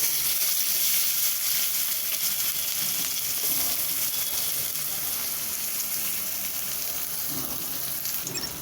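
Onions going into hot oil already seasoned with cumin, cinnamon and cardamom for an egg curry, producing a loud, dense, steady sizzle that continues unbroken throughout with no talking.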